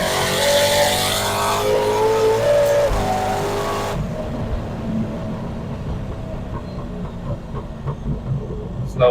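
A 1300 hp turbocharged Corvette with a TH400 transmission builds revs in second gear and then surges ahead, a loud, steady engine roar heard from inside the car that eases off after a few seconds.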